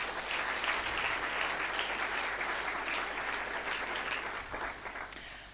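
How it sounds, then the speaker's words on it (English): Steady applause from an audience at a book launch in Sandton, Johannesburg, dense and sustained throughout, easing slightly toward the end. "Can we have another round of applause,"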